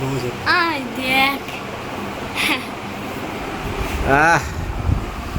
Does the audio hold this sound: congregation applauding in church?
no